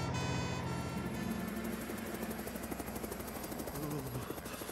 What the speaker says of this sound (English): Oh, that sounds like Tom's helicopter.